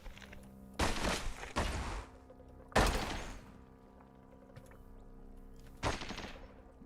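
Chain gun turret firing in Caves of Qud, several loud rapid bursts of gunfire in short volleys separated by quieter gaps with low background hum.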